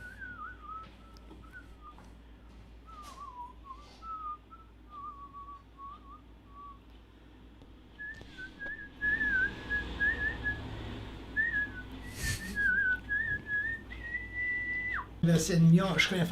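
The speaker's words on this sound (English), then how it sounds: "There's a moment where he actually whistles" A man whistles a wandering melody alone for long stretches, the tune rising and falling with some held notes, moderately loud against a low background hum and occasional clicks.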